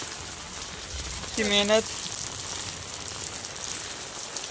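Light rain patters steadily on a clay model of Murud-Janjira fort, a soft continuous hiss, with a brief spoken phrase partway through.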